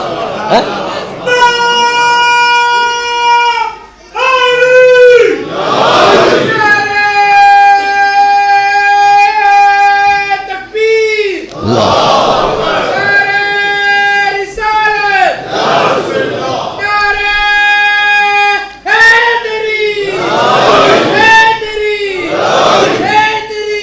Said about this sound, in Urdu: آپ لوگ نعرے لگا رہے ہیں